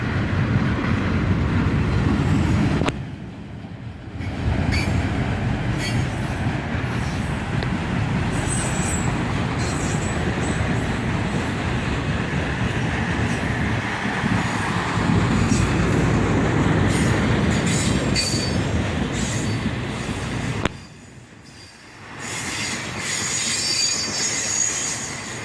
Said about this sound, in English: Listen to them auto racks just a squealing as they head north out of town.